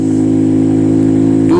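A 250cc fuel-injected motorcycle engine labours on a mountain road climbing toward Babusar Top, a loud steady drone in low gear with a brief rise at the end.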